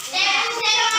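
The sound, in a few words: children doing a 'tepuk semangat' spirit clap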